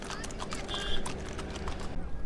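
Horses or mules clip-clopping along a road in the Baltal valley near Sonmarg, Kashmir, a quick run of hoof knocks over steady outdoor background noise.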